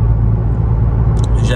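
A Volkswagen Golf VII GTI Performance Phase 2 with 245 horsepower drives along steadily, giving a deep, constant engine rumble from inside the car, with a brief higher noise near the end.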